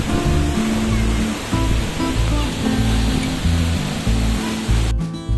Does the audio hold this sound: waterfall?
yes